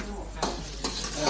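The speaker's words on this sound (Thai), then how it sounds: "ผัดคะน้าค่ะ" Chinese kale is stir-fried in a pan, giving a steady sizzle with two sharp scraping strokes of a utensil against the metal, close and alone.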